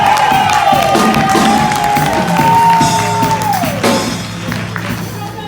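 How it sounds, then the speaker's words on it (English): An audience cheers loudly for a young keyboard player, with a full crowd roar, whoops and shouts over applause, and a sustained sliding tone running through before the noise tapers off. "give him a big round of applause"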